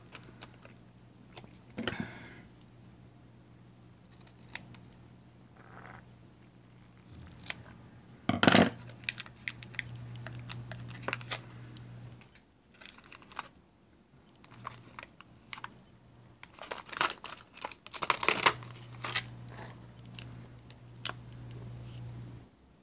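Scissors snipping paper for a toilet paper roll mini photo album craft, several separate close, crisp cuts in bursts with quiet handling between them.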